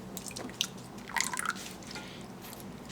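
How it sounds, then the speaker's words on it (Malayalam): Chilled whipping cream pours into a bowl for homemade ice cream, giving soft wet drips and splashes that thicken briefly midway, with no talk. "വിപ്പിംഗ് ക്രീം ഒഴിക്കാം."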